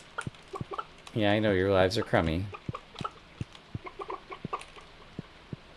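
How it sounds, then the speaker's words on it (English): Video game chickens cluck loudly and close by in a short burst lasting over a second, while a person talks quietly before and after. "Let's go pet some upset chickens since I'm in the neighborhood."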